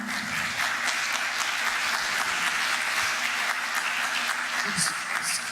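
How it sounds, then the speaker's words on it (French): An audience at a roundtable applauds its three speakers, a dense, continuous wash of many hands clapping that holds steady throughout, with some voices mixed faintly underneath. "Je pense qu'on peut applaudir nos trois intervenants."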